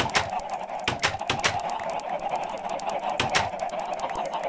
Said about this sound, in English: So here is my chicken farm. You can already hear it.